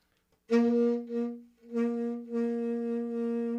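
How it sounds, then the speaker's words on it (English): A pinched, choked brass tone from playing with too little mouthpiece in the mouth, three short held notes, thin and constricted rather than open. "If you don't have enough mouthpiece in your mouth, it sounds like this, kind of real choked."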